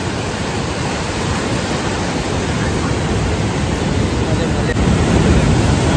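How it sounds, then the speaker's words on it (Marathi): Rough sea waves churn the water at a coastal mullet fishing spot, making a loud, continuous, even roar of surf that barely changes and swells slightly toward the end. "लाटा बघा पाणी कसं खवाललाय."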